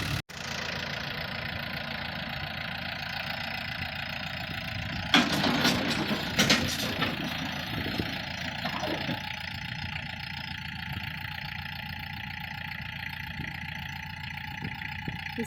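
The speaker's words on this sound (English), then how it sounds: "coming in now with the tractor" A farm tractor's engine runs steadily at idle throughout, with a louder burst of rumbling and knocking near the middle as it comes in to bury water hose.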